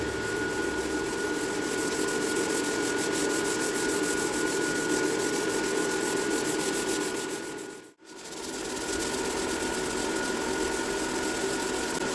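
Continuous rhythmic block sanding of a 1957 Chevrolet Bel Air body panel, close and steady abrasive rubbing that breaks off briefly in the middle before resuming.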